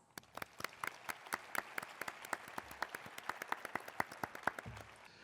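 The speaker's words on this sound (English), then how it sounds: "Let's give them a big round of applause" Applause fills an evening police awards ceremony, a moderate crowd clapping in distinct sharp claps that run steadily for several seconds and stay fairly close, with no talking over them.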